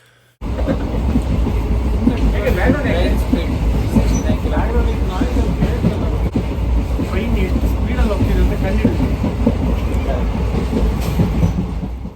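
A train rumbles loudly along the tracks in a continuous roar with rattling clatter, heard from beside an open train door, and voices can be made out beneath the noise.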